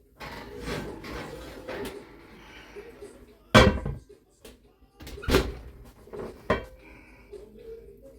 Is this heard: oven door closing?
yes